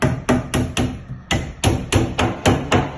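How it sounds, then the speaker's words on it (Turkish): Nails being hammered into the back panel of a four-door multipurpose cabinet, a steady run of about a dozen sharp, loud, close wooden knocks at a quick even rhythm with one brief gap. "dört tarafına yeteri kadar çivi çakıp arkalık işlemini bitiriyoruz"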